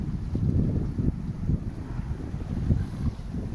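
A sailboat runs on a broad reach at about seven knots off Sardinia with one reef in the mainsail and a full genoa, giving a low, rushing, continuous wind roar with surging water wash and no voices.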